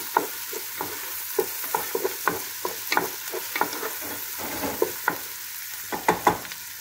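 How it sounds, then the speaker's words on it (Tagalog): Onion and garlic sauté in a pan for sambosa, giving irregular scraping and tapping stirring strokes over a soft steady sizzle, close and moderately loud, with no talking. "naggisa na tayo ng ating sibuyas at bawang. Ayan, para sa ating sambosa."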